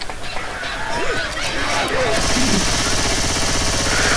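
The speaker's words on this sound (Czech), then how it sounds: "to byla jak pískací kachnička" A squeaky rubber-duck-like squeak in the video game Left 4 Dead, short rising chirps near the start set against busy game noise and a steady droning background.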